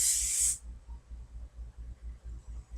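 Hairspray hisses from a can onto hair in one short, loud burst at the start, followed by quiet with a faint low rhythmic thump underneath.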